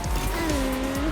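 Race car engine in a Disney racing video game, a steady high whine that slides gradually in pitch, with a continuous loud tire squeal throughout.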